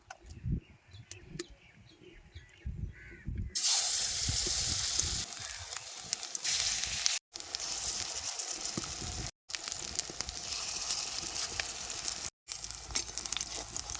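Pumpkin flower fritters drop into hot mustard oil in a wok, and a loud, dense sizzle bursts in after a quieter start, continuing close-up with a few abrupt short breaks.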